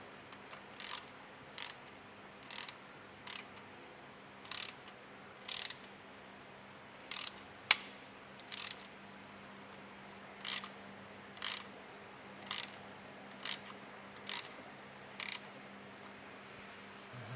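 A hand ratchet clicks in short repeated bursts of a few clicks each as a sump plug is tightened back into a Chevrolet Cruze oil pan, close and alone, with no talking.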